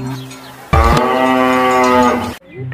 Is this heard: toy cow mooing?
yes